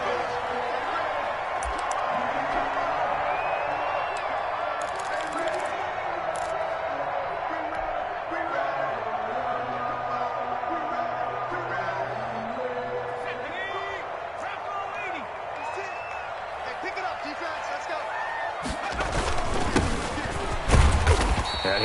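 Simulated stadium crowd roars steadily through a Washington versus Dallas Cowboys football video game, a dense, constant wash of cheering under a commentator's voice, swelling louder near the end.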